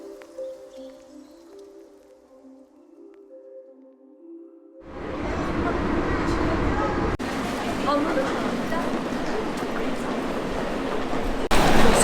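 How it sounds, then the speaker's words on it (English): A ride on the Istanbul metro heading toward Taksim Square: after a few quiet seconds with a low tonal hum, a steady, loud broadband rumble of the train in motion fills the car. "We're gonna take the metro and cut to Taksim Square."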